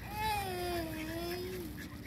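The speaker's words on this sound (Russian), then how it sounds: "А наверху чайки кричат." Seagulls cry overhead: a single drawn-out, wavering call with a bending pitch sounds for about two seconds, fairly faint against quiet ambient background.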